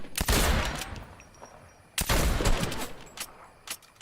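Rapid gunfire bursts in a Fortnite-like video game, two main volleys of sharp cracking shots about two seconds apart, with a few scattered single shots trailing after, loud and close.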